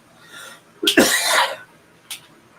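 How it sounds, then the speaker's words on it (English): A single harsh cough, close and fairly loud, with a small throat sound after it. "Sorry about the cough."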